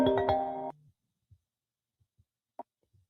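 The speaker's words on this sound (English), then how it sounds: "Got another phone call." An incoming call rings on a phone: a short burst of bright, layered ringtone tones that cuts off abruptly, followed by near silence with a few faint clicks.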